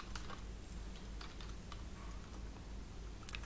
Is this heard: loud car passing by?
no